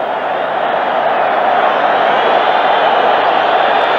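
A big football stadium crowd at a Boca versus River match roars steadily and loudly, a dense unbroken wash of cheering voices from many thousands of people.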